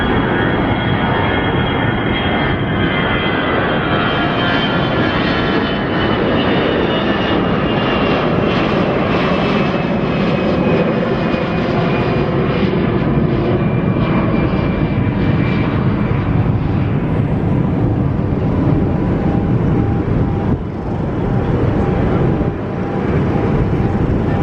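A jet airliner takes off from Gibraltar Airport, its engines producing a loud, steady roar with a high whining tone that persists at full strength throughout, with no voices.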